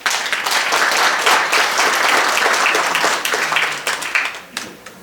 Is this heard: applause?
yes